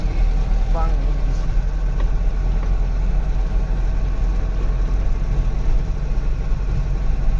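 Car cruising on the Samruddhi highway near the Karanja Lad exit, a constant loud engine and road drone from inside the cabin, steady throughout.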